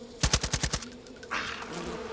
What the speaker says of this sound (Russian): Отгоняем, отгоняем пчел.